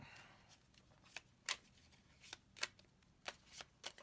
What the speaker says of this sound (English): we're going to shuffle this from the limbo pile here back into the deck